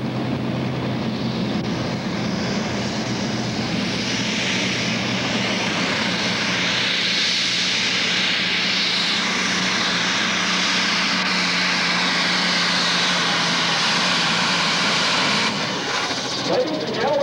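A big old black International 3688 tractor from Bolus, Nebraska, pulls in the 7,500 lb class at the 1997 Nebraska State Fair. Its engine gives a loud, close, sustained roar that holds steady for the whole stretch.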